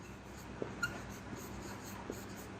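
Marker or chalk writing on a classroom board, soft scratchy strokes with a few faint taps over a steady room hum, quiet and with no talking.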